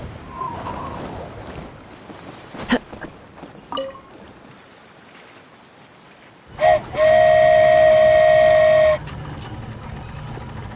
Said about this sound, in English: So this is what it feels like to ride a toy train.